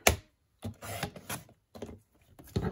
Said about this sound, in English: now I'm gonna cut this off here